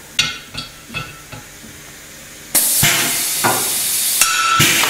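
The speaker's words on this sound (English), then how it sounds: "Pull the trigger, wait for the stem to break, then release the trigger." An Avdel 3/8-inch Monobolt rivet is set with a riveting tool. A series of sharp metallic clacks from the tool's pulls is followed by a loud, sustained hissing burst, like air release, with further clacks near the end, close and loud.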